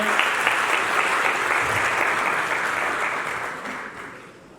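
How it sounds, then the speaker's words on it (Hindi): Staff audience at an IIT Ropar meeting applauds the director with dense, steady clapping that holds strong, then gradually fades toward the end. "आप जरा डायरेक्टर साहब के लिए ताली बजाइए जरा जोरदार बताएंगे।"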